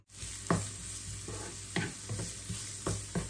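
Garlic and shallots or onion stir-frying in a little oil in a pan, a steady bright sizzle with a few louder scraping stirs of the spatula at intervals, close and alone without talk.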